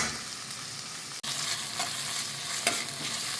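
Cloves, cinnamon and tomato are fried in a pan for a bhindi masala paste, making a steady close sizzle with stirring scrapes and one sharp click.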